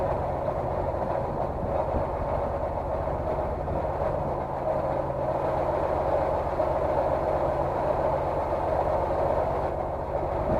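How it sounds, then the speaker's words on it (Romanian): A Dacia 1300 engine idles steadily while warming up, a continuous low, even hum with no talk over it. "Aștept ca motorul să se încălzească"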